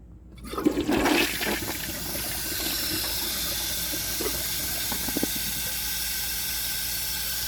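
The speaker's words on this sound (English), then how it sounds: "I'm going to give it another flush and see how much of it can go down." A 1998 Eljer Patriot toilet with a siphon jet clogged by dirt flushes with a loud rushing surge, then settles into a steady hiss of refilling water that runs on alone.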